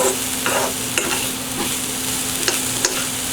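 Vegetables sizzle in a pan while being stirred, with a continuous frying hiss broken by several distinct scraping and clinking strokes of a utensil, close and fairly loud, without speech.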